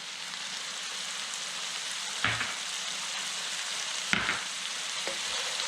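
Worcestershire sauce stirred into sizzling sloppy joe mix, a steady close frying hiss with a few soft spoon scrapes against the pan.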